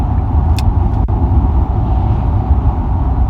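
A car cruises along the highway between Alpine and Marfa, Texas, giving a loud, steady low road and engine rumble with wind noise and a faint brief click.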